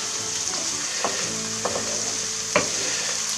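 Onions frying in a pan until translucent, a steady broadband sizzle throughout with a few brief scraping stir knocks, close and even, no voices.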